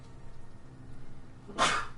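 A single short, sharp sneeze bursts out near the end, loud and close, after a stretch of quiet background noise during a video game session.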